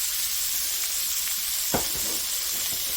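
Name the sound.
beef tips sizzling in a pan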